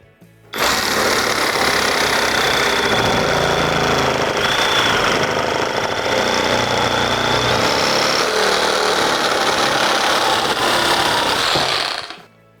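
Procraft Industrial RS20A reciprocating saw cutting a partition foam concrete block, a loud, steady buzzing roar that holds unbroken for about eleven seconds and then cuts off, with no voices.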